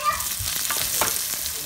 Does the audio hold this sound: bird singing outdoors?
no